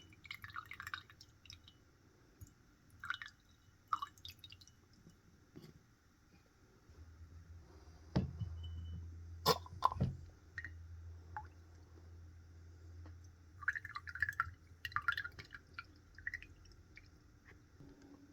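Water drips and trickles through a Mag 600 fountain pen as it is flushed clean, with sparse, quiet drops and splashes over a low hum, close and faint.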